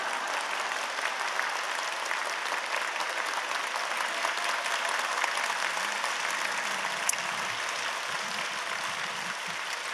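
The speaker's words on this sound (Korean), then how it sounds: "하나님께 영광의 박수 올려드립니다" Steady, dense applause from a congregation fills a Wednesday worship service at Yoido Full Gospel Church, holding even and full for the whole stretch with no talk over it.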